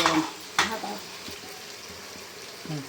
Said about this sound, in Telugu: ఇట్లా కలుపుకొని కొంచెం వేపుకోనియాలి.